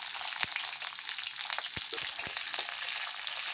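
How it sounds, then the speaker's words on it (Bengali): Dried chillies, panch phoron and green chillies sizzle in hot oil in a wok with a soft, steady frying hiss and a few sharp pops and spatters, close by and quiet, with no talk. "এবার দেখুন শুকনো লঙ্কা, পাঁচফোড়ন তেলে দিয়ে দিলাম"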